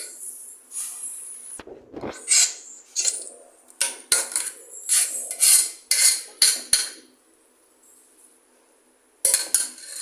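Moong dal Ashoka halwa stirred in a pan, a series of sharp metallic scrapes and clinks from a spoon against the vessel in irregular bursts, loud and close, with a quiet pause before a final burst.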